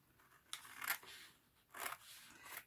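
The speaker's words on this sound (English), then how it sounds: "You cut right at the line." Scissors cut along a marked line while a writing board is made, two short rasping snips about a second apart, close and fairly quiet.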